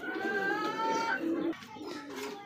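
Pigeons at a pigeon farm coo close by in a steady stream of soft, throaty calls, with a few layered tones and no talking.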